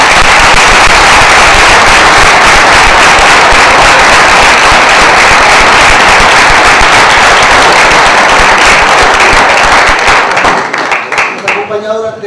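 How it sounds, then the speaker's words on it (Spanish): A theatre audience bursts into loud, dense applause that fills the room for about ten seconds, then thins out and fades in scattered claps. "Yo creo que le damos un fuerte aplauso."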